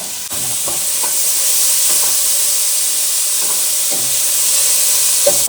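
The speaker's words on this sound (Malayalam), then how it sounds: "കുറെ സമയം നമ്മൾ ഇത് വഴട്ടിയെടുക്കണം" Egg roast masala sautéing in coconut oil in a Kerala kitchen, a steady loud sizzle and hiss with light stirring scrapes of the spatula scattered throughout.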